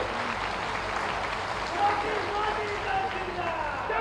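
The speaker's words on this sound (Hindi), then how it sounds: "आप सब लोग एक बार माननीय मुख्यमंत्री जी को ताली बजा करके उनका स्वागत करें" An audience at a public event in Mau claps to welcome the chief minister, a dense, even patter of applause that runs steadily the whole time with a voice faintly over it.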